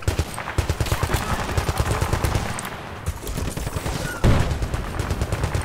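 Rapid, sustained machine gun bursts in Battlefield 2 gameplay, a dense rattle of shots that continues throughout with a louder burst near the end, with no voices.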